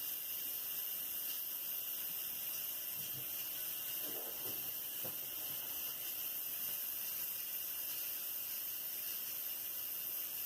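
Steam hisses out of an Instant Pot's pressure release valve, a steady, fairly loud high-pitched hiss running throughout with a few faint knocks partway through.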